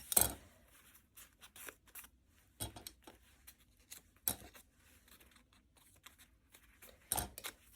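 Scissors snip through paper scraps for a junk journal in a series of sharp, separate cuts spread across a quiet room, each crisp and close with soft paper rustling between them.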